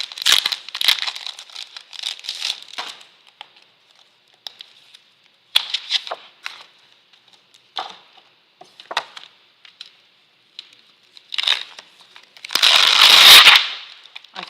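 A sheet of paper is handled and crumpled on a craft desk, producing intermittent crinkling rustles in short bursts with quiet gaps, ending in a louder, longer crunching crumple up close.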